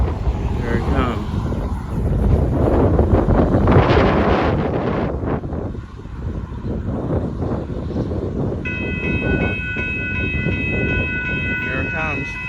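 A northbound Union Pacific gravel train rumbles past with heavy wind buffeting the microphone, and a horn sounds steadily near the end.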